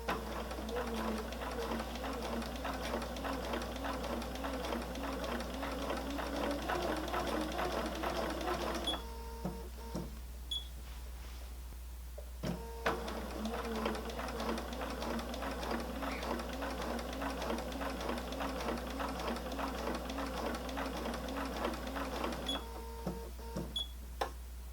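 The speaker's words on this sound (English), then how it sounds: "I did a little bit of back stitching to get it locked into place" Sewing machine back stitching fabric, a steady close whirring run that stops briefly before a second run starts, with small clicks during the pause and a constant low hum underneath.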